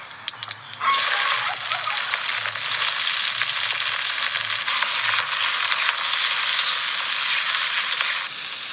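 Bay leaf, cumin and onion frying in a pan with oil, a loud, steady sizzle that bursts in after a quiet first second and crackles continuously for about seven seconds before easing off at the end.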